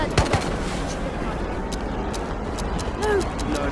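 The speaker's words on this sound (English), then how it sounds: "Ah, no, he's shooting me." Gunfire in the video game Ghost of Tabor: sharp shots crack in a quick cluster and then a few more scattered reports, set against a busy background hiss with players' voices.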